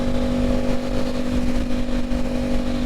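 An Aprilia Tuono 660 motorcycle fitted with an aftermarket eBay exhaust while riding, a loud, steady engine hum with a constant tone and wind roar close by, no speech.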